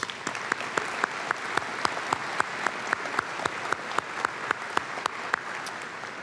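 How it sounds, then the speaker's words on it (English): Steady audience applause at a college commencement, many hands clapping continuously at an even density, moderately loud throughout. "Let's give Garrett another round of applause, please."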